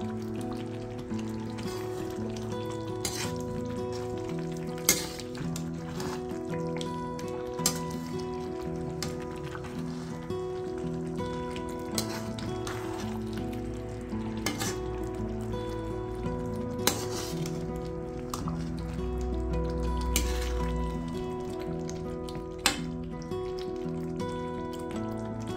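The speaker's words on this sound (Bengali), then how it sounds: "মশলাটা বেশ ভালোই ভাজা হচ্ছে" Masala for Bengali kosha chicken with potatoes fries in a pan, giving a soft continuous crackle under a steady background tone, with occasional sharp clicks from stirring along the sides.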